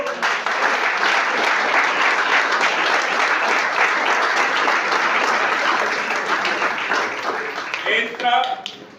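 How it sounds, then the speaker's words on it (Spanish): A church congregation claps together in a long, dense burst of applause that fills the room and then thins out raggedly toward the end. "Denle un aplauso al Señor."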